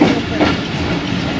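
Khyber Mail passenger train running on the main line in cold, foggy Punjab, heard as a steady, loud rumble and rattle of wheels on rails, continuous and close throughout.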